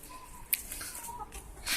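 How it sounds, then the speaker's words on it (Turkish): Rooster calls and clucks from three roosters kept in a small home garden, a few short bursts at moderate distance with faint background noise between them. "Üç tane horoz."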